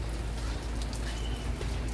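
Rain falls steadily at an outdoor market, a dense continuous hiss with scattered drop patter and low rumble, even and fairly quiet throughout, with no voices.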